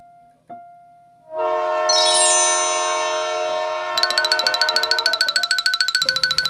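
A train horn sounds long and loud, joined partway through by a rapid, pulsing ring like a crossing bell or rail clatter, with no voices.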